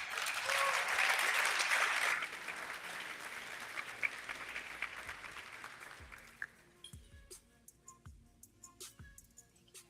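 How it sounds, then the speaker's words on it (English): An audience at an agency awards ceremony breaks into loud, full applause that gradually thins after a few seconds to scattered single claps, then a few isolated taps as it dies away. "Let's give them a big round of applause."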